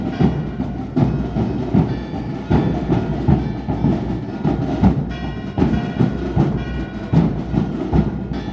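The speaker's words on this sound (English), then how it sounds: "We're going to hop on the train down to the center of Porto" Train ride toward central Porto, Portugal: a steady rumble of rolling wheels with rhythmic clickety-clack beats repeating about every second, loud and close from inside the carriage, with no talk.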